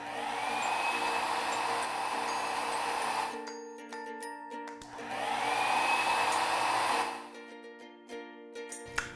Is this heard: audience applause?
no